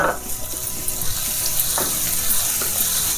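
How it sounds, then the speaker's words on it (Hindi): Chopped onions sizzle steadily in hot oil with green chillies for a spicy pea curry, a dense continuous frying hiss with a few soft stirring scrapes. "हमारा प्याज भी भुन जाएगा इसमें"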